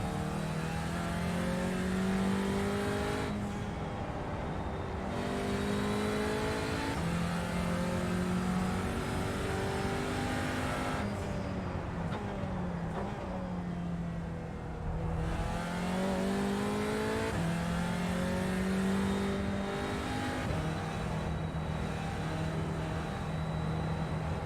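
Audi TCR race car on its opening qualifying lap at Road America, engine revving hard and rising and falling through repeated upshifts and downshifts, loud and close throughout with no talking.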